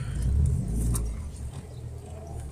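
A VAZ car engine runs rough with a misfiring ignition: a steady low, uneven rumble with slight shakes, close and fairly loud, with no talking.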